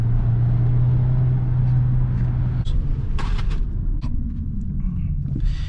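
A Volkswagen Passat with a 1.4 TSI 125 hp engine drives a narrow village road at night: a loud, close engine hum drops away partway through, leaving road rumble with a few sharp knocks and clicks.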